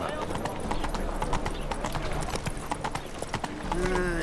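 Horse hooves clip-clop steadily in the Witcher 3 video game, a brisk rhythmic trot running throughout under continuous spoken dialogue, with a short whinny-like tone near the end.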